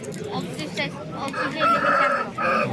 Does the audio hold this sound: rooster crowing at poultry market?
yes